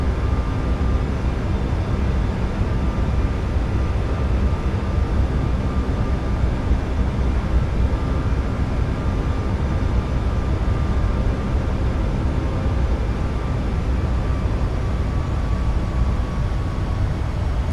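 A Boeing 737 MAX's jet engines roar steadily during takeoff in Microsoft Flight Simulator, a continuous even rumble with a faint whine that holds throughout.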